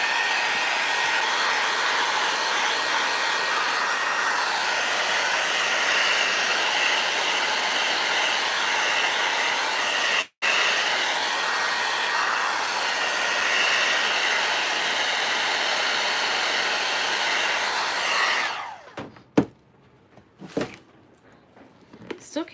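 A hair dryer blows steadily at close range while drying a decoupage ceramic tile, a loud continuous whooshing roar with one brief dropout before it shuts off, followed by a few faint handling knocks.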